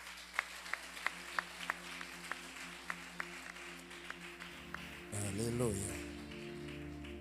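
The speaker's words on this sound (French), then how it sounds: "L'église applaudit bon Dieu." Church congregation at an evangelical service clapping in a slow, even rhythm, about a dozen faint, regularly spaced claps, then a voice calls out over a low hum.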